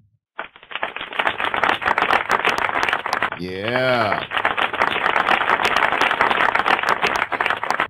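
Canned applause sound effect played during a live trading stream: dense, continuous clapping that runs almost the whole time, briefly interrupted by a short spoken exclamation.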